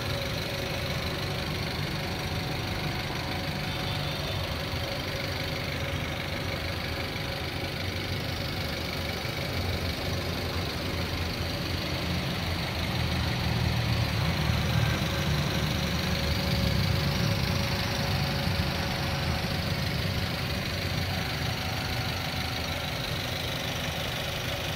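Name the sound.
Toyota Avanza 2010 engine idling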